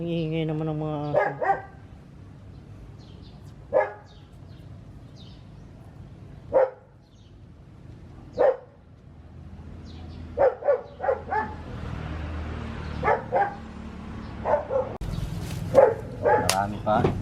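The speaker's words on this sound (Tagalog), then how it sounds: "Ang ingay naman ng mga aso." Several dogs bark in short, scattered bursts, some sharp and close, others yipping, spread across a noisy outdoor yard while people talk in the background.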